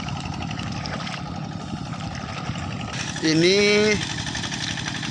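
A Kubota RD85 diesel engine on a TL800 hand tractor ploughing a rice paddy with a modified harrow chugs steadily up close, while someone talks briefly over it.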